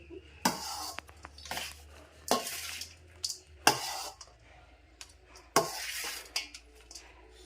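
Carrot lemon rice stirred in a metal pot, bursts of scraping and clinking spoon strokes recurring every second or so, fairly close, with quiet pauses between and no talk.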